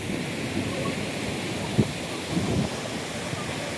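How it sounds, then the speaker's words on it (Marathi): Steady ocean surf on Tondavali beach in Sindhudurg, a continuous wash of waves with wind rumble against the microphone and a few soft thuds, fairly loud and constant throughout. "अतिशय सुंदर आणि स्वच्छ असा आपल्याला लाभलेला किनारपट्टी तोंडवली बीच या ठिकाणी आपण आहोत"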